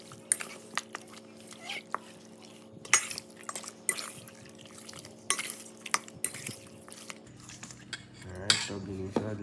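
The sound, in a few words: stirring curry into coconut curry chicken in pot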